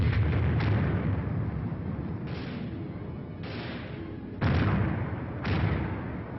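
A 4.2-inch mortar platoon firing in a US Army training film, with several heavy booming blasts spaced a second or two apart over continuous rumbling fire.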